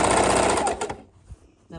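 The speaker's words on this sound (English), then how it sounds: "sewing that straight line" A sewing machine runs a short burst of rapid stitching along a straight line on a quilted bag of fabric, batting and backing, then stops abruptly, leaving near silence.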